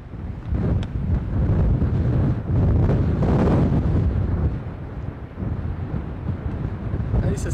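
Strong wind at Cape Horn, near a moored sailing boat, buffets the microphone in loud, rumbling gusts that swell and ease, with some talk mixed in.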